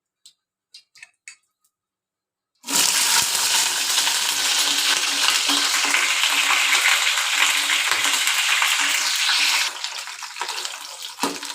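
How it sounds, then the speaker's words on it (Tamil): Brinjal hits a generous pool of hot sesame oil for oil-brinjal kuzhambu after a few light clinks; a loud, dense sizzle then roars steadily and eases slightly near the end. "இப்போ வந்து நம்ம வந்து கத்திரிக்காயை வந்து நல்லா வதக்கிக்கலாம்"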